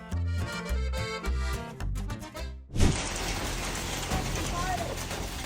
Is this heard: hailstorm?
yes